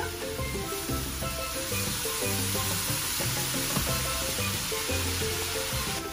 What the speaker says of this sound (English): now I'm adding some Worcestershire sauce